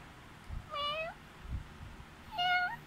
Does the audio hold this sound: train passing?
no